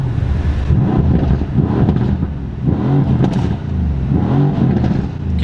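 A Mercedes C63s AMG Coupe's engine revs with a deep, loud, rumbling growl, rising and falling in pitch in repeated pulls, heard close with some wind buffeting and no speech.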